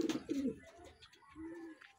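Racing pigeon cooing on arrival at its loft during a training race in Santa Rosa, Laguna, a few soft, close coos with quiet background between them.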